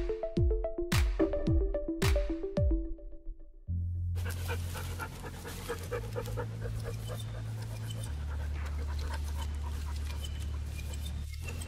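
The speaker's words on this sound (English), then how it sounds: "Pups are panting, getting hot, and Kobe has the right idea to hide." Several dogs pant in the hot Arizona sun, starting with a few sharp barks and whimpers up close, then settling into a steady, rapid, rhythmic panting that continues nearby without talking.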